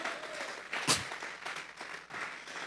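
A church congregation applauds at a Spanish-language sermon, a short burst of clapping from the crowd with one sharp loud clap standing out, at moderate distance.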